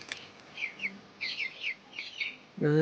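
A Madrasi pigeon gives a short series of soft warbling calls, fairly close, ending with a louder harsher cry at the end.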